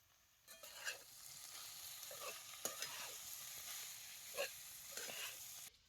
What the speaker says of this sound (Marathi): अशी मिरची तेलात चांगली भाजून घ्यायची